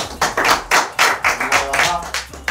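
Slow, deliberate clapping from a small group, about nine distinct claps in an even rhythm, close and fairly loud, with no crowd behind it.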